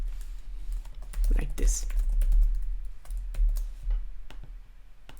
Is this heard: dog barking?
no